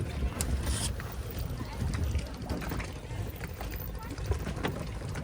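Boat ride on the Dudhani dam lake with four people aboard, a steady rumble of water and wind buffeting the microphone throughout, with people talking nearby over the continuous noise.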